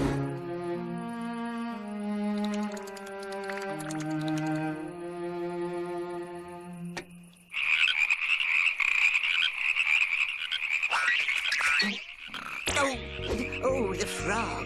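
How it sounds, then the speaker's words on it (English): Cartoon frogs croak in a school-set animated series, first in a bouncy, tonal sequence of stepped croaks, then a sudden burst of busier, higher chattering croaks that carries on to the end, loud and up close. "Oh, the frogs! The frogs!"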